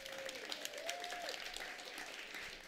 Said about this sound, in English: An applaud for picking up rubbish.